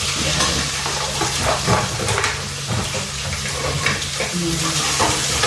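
Garlic and onion frying in a pan for Indian dal, a loud continuous sizzle with repeated spatula scrapes and stirring clatter close by, without talk over it.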